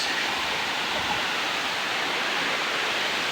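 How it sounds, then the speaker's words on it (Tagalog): Steady broadband rush of water pouring at Dampalit Falls on Mount Makiling in Los Baños, Laguna, a constant close roar with no talk over it. "Dampalit Falls."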